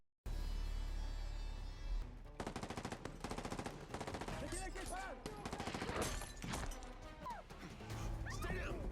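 Rapid bursts of automatic gunfire crackle through an action movie scene where mercenaries attack, mixed with crashes and sharp impacts in dense, loud volleys with brief gaps.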